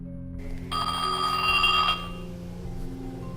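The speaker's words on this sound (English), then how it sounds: "with you receiving phone calls from Jake's girlfriend" A phone rings in the video game Lit: a steady electronic ringing tone lasting just over a second, sounding alone over a low, constant background hum.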